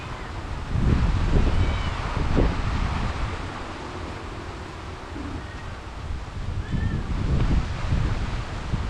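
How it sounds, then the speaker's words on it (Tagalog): Steady wind roars and gusts across the microphone with a broad rushing wash, swelling and easing, with rain mixed into the noise during Typhoon Goring. "meron pong kasamang hangin at ulan"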